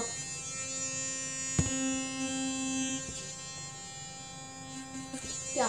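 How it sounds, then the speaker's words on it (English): A Burst Kids electric toothbrush buzzes steadily at close range, a thin high-pitched motor whine with a couple of brief knocks, running alone without talk. "look at this Burst Kids toothbrush"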